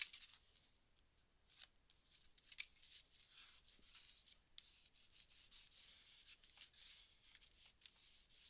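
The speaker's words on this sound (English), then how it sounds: "Just burnishing this down some." Paper is burnished down by hand while crafting a Christmas card, giving quiet, continuous rubbing and scraping strokes with a few sharper scratches, close and faint, with no talking.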